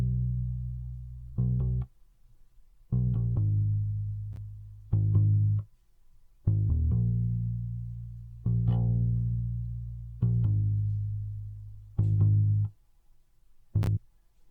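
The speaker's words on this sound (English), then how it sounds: "So I used the bass guitar from Modo Bass," Modo Bass virtual bass guitar plays a slow line of deep, round plucked notes with gaps of silence between phrases, each note sustaining and fading, heard alone and fairly loud.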